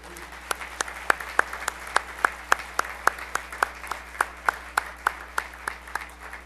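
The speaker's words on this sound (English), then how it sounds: "let's give a warm round of applause for Debbie Schutte" Sparse, evenly spaced claps from a small audience at a hall of fame dinner, each sharp smack distinct and regular like a few people clapping in rhythm, over a steady low hum in a quiet room.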